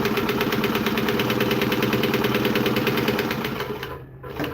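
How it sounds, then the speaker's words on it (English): A sewing machine top-stitches fabric with a steady, rapid, close mechanical chatter that runs evenly before slowing and stopping near the end. "then we are going to top stitch all the way around"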